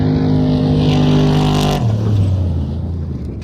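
A Brenthal off-road race truck roars past at close range in the desert, the loud engine note holding high and then dropping sharply in pitch as it goes by and fades.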